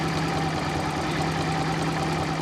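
A Fiat Panda 4x4 Sisley engine idles after warming up, with its timing just corrected, running as a steady close mechanical hum with an even low throb.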